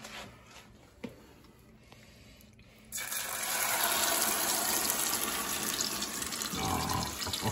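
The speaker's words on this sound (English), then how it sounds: "now we're going to pour it into our cast iron pan here" Spaghetti egg mixture poured into a cast iron pan: after a quiet start, a sudden sustained wet rushing, sizzling wash begins and continues steadily, fairly close, with no talking.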